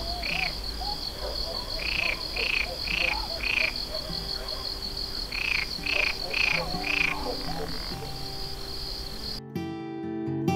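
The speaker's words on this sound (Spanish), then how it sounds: "La rana, que era un encanto." Frogs croak in repeated pulsed calls over a steady chorus of crickets and insects near an irrigation channel, the croaks coming in short bursts of several notes.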